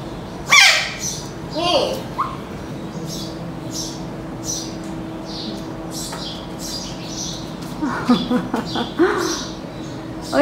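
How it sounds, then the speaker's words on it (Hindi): A young pet parrot squawks and chirps loudly up close in sharp repeated bursts, with people talking around it throughout. "चिड़िया बुला रही है, चिड़िया चीची कर रही है।"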